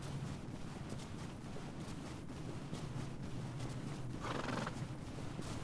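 A horse in the video game Legend of Khiimori whinnies loudly while its hooves clop in a steady rhythm, with a soft windy ambience behind them and no talking.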